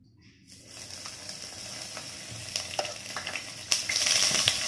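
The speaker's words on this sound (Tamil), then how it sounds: "சூடு பண்ணிவிட்டு ஆயில் ஊற்றி நம்ம சாசேஜ் வேக வச்சு எடுத்துடலாம் சட்டியில்" Sausages fry in hot oil in a pan, giving a steady close sizzle and crackle that grows louder over a few seconds, with occasional sharper pops.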